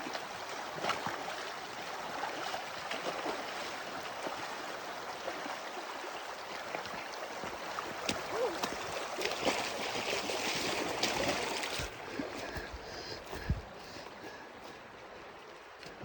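A good-sized stream on an overgrown hiking trail on the South Molar Pass route, rushing and gurgling steadily and close by, a continuous broadband wash with faint splashes and no talk.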